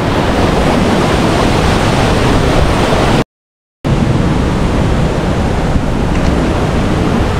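Loud, steady roar of rushing water at Dunhida waterfall, a dense broadband wash that fills the whole stretch and cuts out briefly near the middle before resuming.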